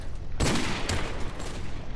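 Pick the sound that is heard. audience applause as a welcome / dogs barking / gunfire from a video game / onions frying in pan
gunfire from a video game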